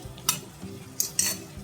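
A spoon scrapes and clinks against a pressure cooker while spices roast on a low to medium flame for a gular curry, giving a few sharp metallic taps over a soft, steady sizzle.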